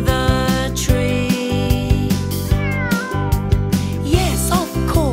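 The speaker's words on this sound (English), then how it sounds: "It's my cat, she's in the tree." A cat meows up in a tree, several clear repeated meows over a steady rhythmic musical backing, fairly loud throughout.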